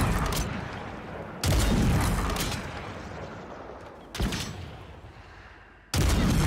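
Heavy sniper rifle shots in the Warzone video game, four loud booming reports spaced a second or two apart, each followed by a long echoing tail that fades under the next shot.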